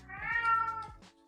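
A pet cat lets out a single drawn-out meow, clear and close, rising then falling over about a second, with no voices over it.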